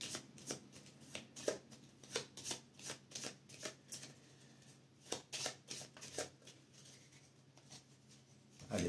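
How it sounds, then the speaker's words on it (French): Playing cards for the board game Earth are shuffled close by in a series of quick riffling bursts, soft and crisp, with short pauses between, ending in a brief louder rustle. "je vais bien mélanger les cartes et puis je vais en sélectionner 2."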